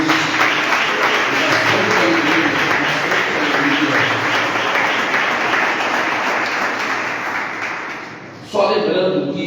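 A church congregation applauds in a steady, sustained wash of clapping that gradually fades, before a voice comes in near the end.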